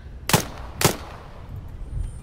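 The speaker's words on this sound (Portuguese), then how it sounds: "tô dando tiro nos bichos aqui" Two sharp gunshots from the video game Arma 3, fired about half a second apart against a low rumbling background, each loud and close with a quick decay.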